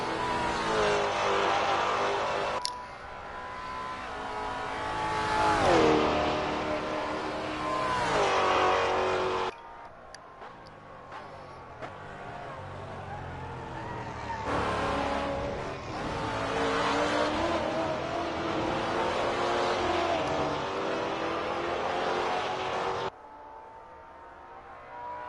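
Race car engine in the Assetto Corsa racing game, loud high-revving howl climbing through gears with sharp drops at shifts, a quieter gap in the middle, then another long full-throttle pull.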